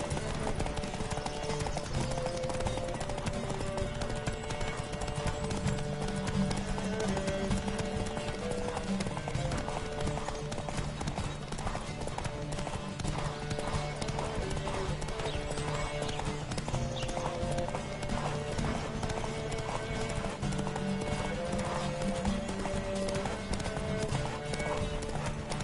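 Horses gallop continuously, their hooves clip-clopping in a fast, steady rhythm throughout, with occasional whinnies and a dense busy background, at moderate volume.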